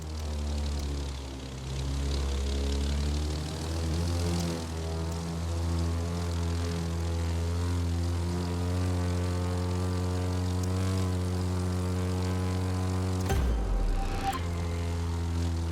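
A propeller airplane in the racing video game The Crew 2 flies with a loud, steady engine drone and buzzing harmonics, the pitch shifting slightly near the end.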